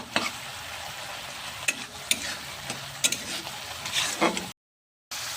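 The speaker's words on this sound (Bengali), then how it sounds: "ঘি দিয়ে এটাকে ভালো করে আবার মিক্স করে নেব এই দেখুন আমার ঘিগুলো কেমন ছাড়তে লেগে গেছে" Chhena mixture stirred with a spoon while frying in ghee for a chhena pora sweet, with a steady crackling sizzle and repeated scraping stir strokes, then a short cut to silence near the end.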